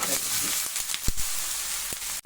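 Ragi and moong dal dosa cooking on a hot pan, a steady soft sizzle and hiss with a few faint clicks and taps of a utensil, fairly quiet throughout.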